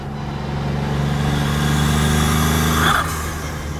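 Formula Ford EcoBoost racing car driving, a loud continuous engine drone heard up close, holding steady with a slight rise in intensity before easing near the end.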